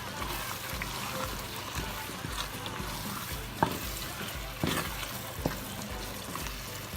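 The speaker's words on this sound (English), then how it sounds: "I'm also going to be adding my red and yellow peppers" Red and yellow peppers frying in a pot for Ghanaian chicken stew, a soft bubbling sizzle with occasional clinks and stirring knocks, close and moderate in level.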